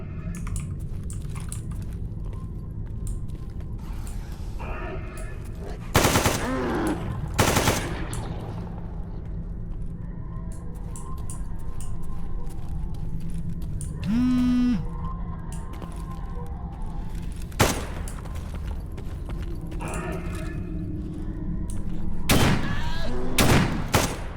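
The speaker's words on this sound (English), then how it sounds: "You're shooting at me, mate." Gunfire in the shooter game Escape From Pripyat, with several sharp bursts and single loud shots spread across a steady background hum.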